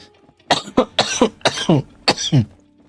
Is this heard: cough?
yes